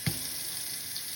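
Tap water runs steadily over salmon in a kitchen sink, a faint, even hiss of flowing water with a brief splash at the start.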